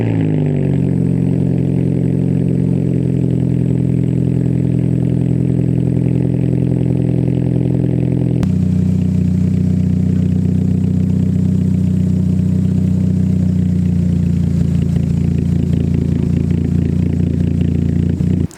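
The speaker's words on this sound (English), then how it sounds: "I'll show you the startup and let it at idle so you guys can at least hear that." A Mini Cooper R50 with a muffler delete, still fitted with resonator and catalytic converter, idles steadily and loudly after startup, its low engine drone continuous throughout with a slight shift in tone partway through.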